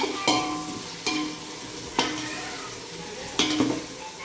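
Spices go into a frying pan with onion, tomato and whole spices for chicken biryani, a continuous sizzle broken by four sharp clinks and scrapes of a spoon against the pan, with no talking.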